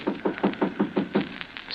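A door knocked on in a tense radio thriller scene, a steady run of about eight evenly spaced, close knocks in quick succession, alone without talk.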